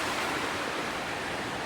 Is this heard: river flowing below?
yes